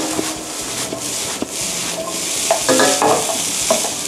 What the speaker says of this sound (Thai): ผัดต่อให้เข้ากัน